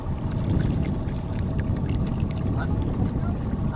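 A small boat (bangka) travels on murky water in the Philippines, carrying relatives out to gather food; a steady broadband rumble and water wash run continuously and close without letup, with no voices heard.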